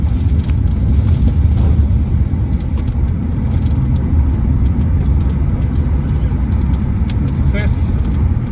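A 6-speed manual BMW Z4 E89 sDrive23i on the move, its engine a steady low drone with road and wind rumble throughout, heard from inside the car.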